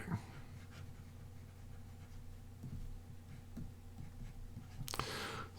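A stylus scratches across the screen of a Bigme e-ink tablet, faint soft strokes close by in a quiet room, with a brief louder rustle near the end.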